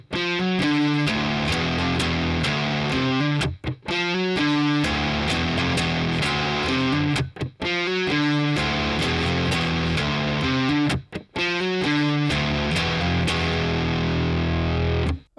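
Heavily distorted electric guitar plays a riff, repeated four times with short gaps between passes, loud and close with no talking.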